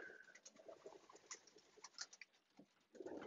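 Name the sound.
racing pigeons cooing on box perches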